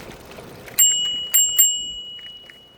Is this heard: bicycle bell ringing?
yes